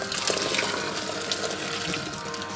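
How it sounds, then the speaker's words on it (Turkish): Water poured from a two-litre kettle into a large pot for aşure, a steady, close, continuous rushing splash that stays even from start to end. "Şimdi 2 litre daha su ekliyorum. Benim kettle'ım tam 2 litre alıyor."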